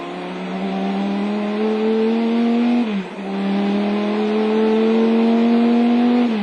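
An onboard race car on the Le Mans circuit runs at about 300 km/h, its engine holding a loud, sustained drone that dips briefly as it brakes and then climbs again.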